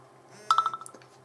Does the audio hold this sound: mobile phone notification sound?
yes